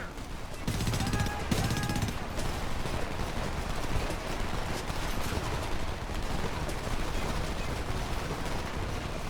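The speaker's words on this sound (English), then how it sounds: "We're pinned. Take out those machine gunners." Machine gun fire in the video game Homefront: dense, continuous gunfire and battle noise fill the whole stretch, loud and unbroken, with speech faintly mixed in.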